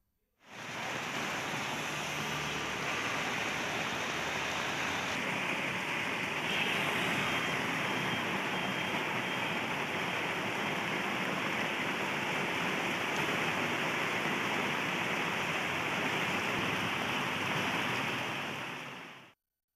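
Heavy rain pours down at night in Kumbakonam, Papanasam and Thiruvidaimaruthur in Thanjavur district, a steady, dense broadband hiss that holds constant and loud for the whole stretch, with no voices.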